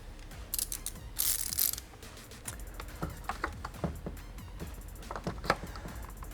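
A wrench tightens a part on a 2015-or-later Yamaha R3 motorcycle, producing soft, irregular metallic clicks and taps up close, with a brief rattling burst near the start.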